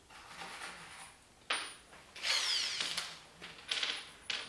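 A power drill drives screws to fasten down the corners of a plywood piece, heard as several short, loud whirring bursts separated by brief pauses, close by and with no talking.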